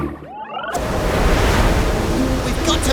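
Loud, continuous rushing of big cartoon ocean waves, a steady roar of surf swelling across the whole stretch after a brief quieter start.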